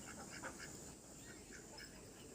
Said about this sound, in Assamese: এয়া দেখিছেনে এয়া হাঁহ